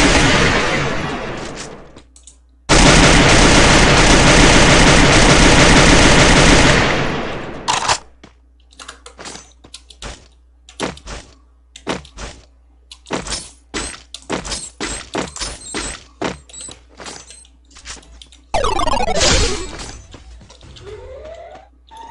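A grenade blast and gunfire in a shooter video game played on an emulator: a long, loud roaring burst of several seconds, then a string of sharp, scattered shots and cracks, and another heavy blast near the end.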